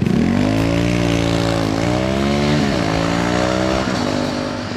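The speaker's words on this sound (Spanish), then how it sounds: "Ese sonido tan excitante del escape de la nueva deportiva de Sanela" A new Zanella sport motorcycle's exhaust roars loud and close at high revs, its buzzing drone sustained throughout with pitch swelling and dipping as the throttle is worked, no voices present.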